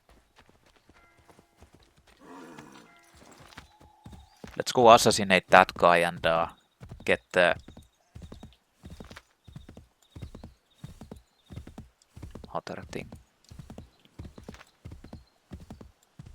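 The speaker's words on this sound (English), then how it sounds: "Where's my horse?" Horse hooves clip-clop in a steady rhythmic trot through a city in Assassin's Creed 3 Remastered, with a few brief neighs and someone talking over the hoofbeats at the start.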